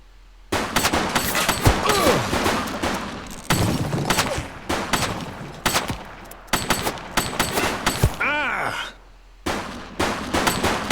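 Gunfire in the video game The Precinct, a series of sharp shots and bursts with breaking and shattering sounds mixed in, loud and close, while a voice speaks between them.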